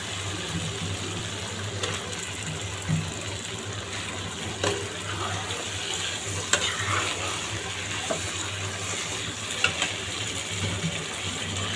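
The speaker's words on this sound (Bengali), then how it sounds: "আমার মাংসের মশলা একদম কষে দেখছেন ভাজা ভাজা হয়ে গেছে" Spice paste for a meat curry fries in a pan, a steady low sizzle running throughout with occasional soft scrapes and clicks of stirring, no voices.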